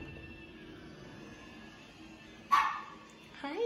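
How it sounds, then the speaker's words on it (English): A small dog gives one sharp bark, followed moments later by a second shorter yip, both close indoors against a quiet background hum. "Oh, she's got a little pup in here."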